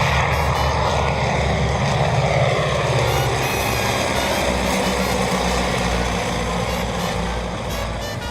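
A Ford Tri-Motor propeller airplane, registration NC8407, runs with a loud, steady low engine rumble and propeller drone, sustained throughout and easing slightly at the end.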